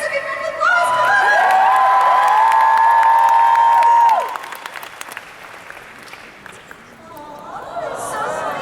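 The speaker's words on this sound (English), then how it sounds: "Let's give Sailor Uranus a big round of applause." Loud applause and cheering from a convention crowd at an Anime Expo Sailor Moon panel greet Sailor Uranus, with sustained high whoops that stop abruptly midway, then quieter clapping and chatter before a fresh burst of cheering.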